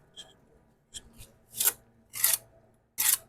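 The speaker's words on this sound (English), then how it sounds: "we're going to butter both ends of our block here" A trowel scraping sand-and-lime mortar onto both ends of a building block laid flat, several short rasping swipes in an uneven rhythm, close and clear.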